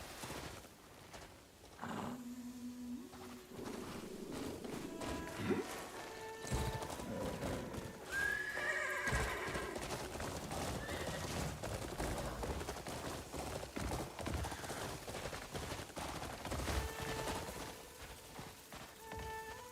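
Horse hooves clop steadily under a brief whinny in the Crimson Desert video game, mixed with game music, ambient effects and occasional sharp impacts.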